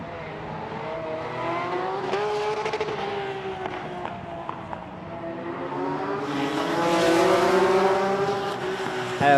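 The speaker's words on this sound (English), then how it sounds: "Here comes the Cup car once again." A Porsche Cup race car engine roars past on a street circuit, its pitch climbing and growing louder as it approaches, then sweeping by with a sustained high-revving howl.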